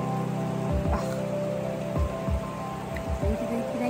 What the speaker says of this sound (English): Well, it looks like it's going to rain from now through 2 a.m.